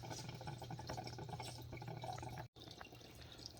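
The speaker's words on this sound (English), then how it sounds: "Open up a hot water spout somewhere in the house." Water runs from an opened hot water spout at a basement utility sink, a faint steady gurgling stream with dripping, briefly cut off near the end.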